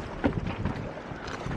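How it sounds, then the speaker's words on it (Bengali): Strong wind gusts across a microphone at a floating jetty on Chilika Lake in rough weather, a steady rushing roar with buffeting bursts and faint lapping water beneath. "ওয়েদার বেশ খারাপ এবং প্রচুর হাওয়া"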